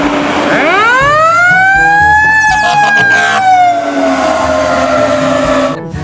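A toy fire truck siren wails loud and close, its tone sweeping upward and then holding a long steady electronic howl before cutting off at the end.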